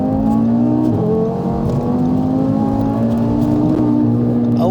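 An Audi RS3 8V2 engine, tuned past 700 hp and warmed up, hums and revs steadily from inside the car, its pitch rising gradually as it accelerates, loud and continuous with no talking.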